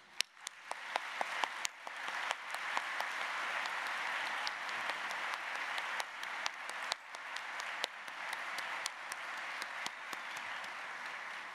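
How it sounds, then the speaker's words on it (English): A large graduation ceremony audience at a college commencement applauds its faculty and staff, a sustained, fairly distant wash of clapping with sharper individual claps popping out here and there, lasting the full length. "offer a gesture of grateful applause to the members of Loyola's extraordinary faculty and staff"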